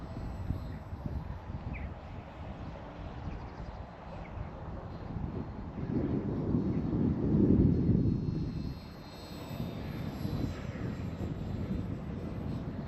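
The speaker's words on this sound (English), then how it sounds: "it's flying very nicely, even in this quite nasty wind" A Zohd Drift RC plane flies in strong, gusty wind, its faint motor drone swelling as it passes nearer mid-clip and then fading, with wind buffeting the microphone throughout.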